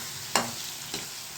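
Sabudana (sago) goes into a hot pan and is stirred as it fries, with a soft background sizzle and two quick scraping strokes of a spoon, the first louder than the second.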